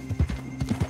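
A horse in Red Dead Redemption 2 clip-clops in a quick, close series of hoof beats while a short whinny blends in, loud and alone without talk.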